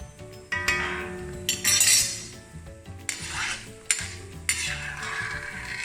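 Almonds frying in a pan for a Mangalorean postpartum medicine, with a spoon stirring and clinking against the metal in bursts over a low steady sizzle, close and fairly loud.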